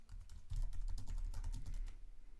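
Rapid typing on a computer keyboard while entering text in Adobe XD, a close run of quick key clicks with slightly uneven rhythm that trails off near the end.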